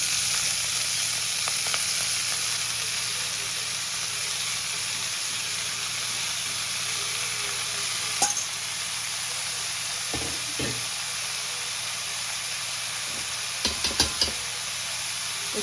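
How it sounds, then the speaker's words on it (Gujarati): Chopped fenugreek leaves and curry leaves sizzling in hot oil for methi kadhi: a steady, close frying hiss throughout, with a few faint clinks and stirring taps scattered near the end. "મેથી કાપેલી હતી એ બધી નાખી દઈશું આમાં."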